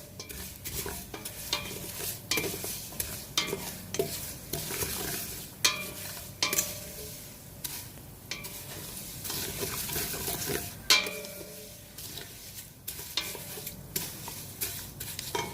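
Beef frying in a pan is stirred continuously, with a steady sizzle broken by frequent scraping and clinking strokes of the spoon against the pan.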